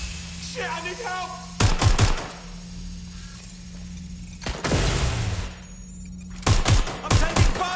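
Bursts of automatic gunfire in the Watch Dogs video game, three loud clusters of rapid shots separated by quieter stretches with a voice speaking in between.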